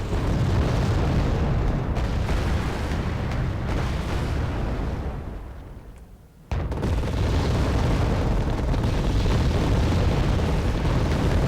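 A mortar barrage pounds a position in a strategy video game, with dense, continuous rumbling explosions that briefly fade and then resume at full force, loud and close.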